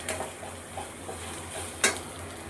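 Turmeric and coriander powder are stirred briefly in a frying pan, a soft sizzle with light scrapes and taps of a spoon against the pan, including one sharper clink near the end.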